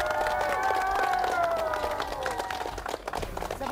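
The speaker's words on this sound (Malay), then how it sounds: "Bagi tepukan yang gemuruh kepada anda masing-masing." Steady applause from a TV competition show audience with scattered cheering, loud and continuous, with some tonal music or voices running through it.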